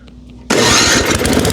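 A Tecumseh snowblower engine fires up on an electric starter, a faint whir and then a sudden loud steady roar close by.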